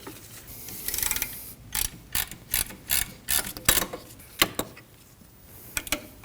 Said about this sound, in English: We're going to loosen up the nut so that we can adjust the pulley upwards. We'll do this using a 12mm.